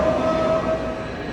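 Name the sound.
bullet train at station platform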